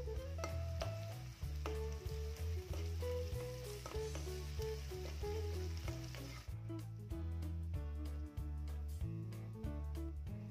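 Ginger garlic paste sizzles and fries in a pan of onions cooking toward golden, a loud continuous crackling hiss with occasional stirring, no voices.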